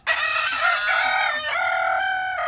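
A rooster crows loudly and close among chickens, one sustained crow with clucking from the flock around it, no voices.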